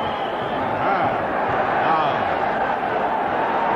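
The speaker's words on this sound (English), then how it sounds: "Buzz of expectancy in the crowd." A football stadium crowd at a 1983 Scottish Premier Division match between Dundee United and Motherwell keeps up a dense, continuous murmur of expectancy while a free kick is set up. The noise is steady and fairly loud throughout, with no single sound standing out.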